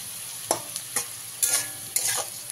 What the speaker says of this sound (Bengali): একবার ভালো করে মিশিয়ে দেবো